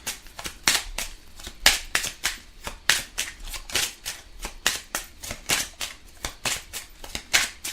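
Tarot cards are riffled and shuffled by hand in a steady run of crisp, close flicking bursts, repeating rhythmically with no speech over them.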